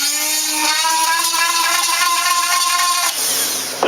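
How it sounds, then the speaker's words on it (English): A drill whirs steadily as it bores through the wooden canopy of a model kit, a loud, close tone that holds for about three seconds before it slows and stops. "I'm going to drill them both all the way through."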